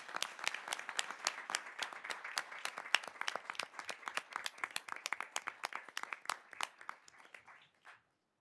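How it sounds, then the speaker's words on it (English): An audience gives a round of applause for high school debate students, a brisk sustained clapping from a modest crowd that thins out and stops near the end. "Can we give those students a round of applause?"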